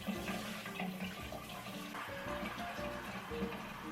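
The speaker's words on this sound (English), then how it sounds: "then I rinsed away the remaining debris." Water runs steadily from a tap, rinsing dust and debris off a bathroom exhaust fan, a continuous close splashing wash with no talking.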